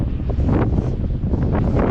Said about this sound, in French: Le vent pousse d'une force.